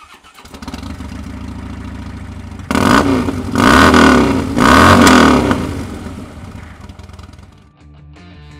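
A 2013 Harley-Davidson Dyna Wide Glide fitted with Screamin' Eagle exhaust idles with a steady, close rumble, then revs loudly in two strong bursts before settling back toward idle and fading.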